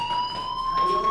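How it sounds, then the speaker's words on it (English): Fire alarm ringing in Life Is Strange, a steady shrill electronic tone sounding continuously at a moderate level for about a second, alone without speech. "Hey, do you hear that fire alarm?"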